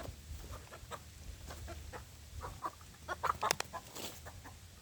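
A backyard chicken clucks in short, soft bursts near a banana planting spot, quiet and somewhat distant amid outdoor ambience, with a few louder clucks toward the end.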